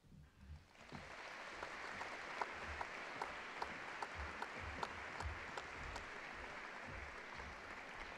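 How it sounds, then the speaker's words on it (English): A Hall of Fame induction ceremony audience applauds after a short burst of noise, steady clapping with a few sharp individual claps standing out, fairly faint and distant. "A round of applause one more time for inductee Brooke Hilditch."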